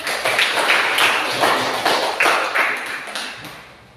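A classroom group applauds, with a short burst of bright, close hand claps that comes in uneven waves and tapers off after a few seconds.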